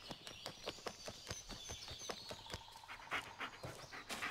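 Dog panting in the horror video game Blair Witch, rapid rhythmic breaths repeating steadily throughout at close range, with faint game ambience and occasional higher whines behind it.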